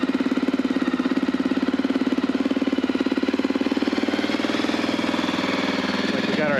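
Honda 650 dual-sport motorcycle engine running on a little choke, a fast, even single-cylinder thump at idle, close and loud throughout.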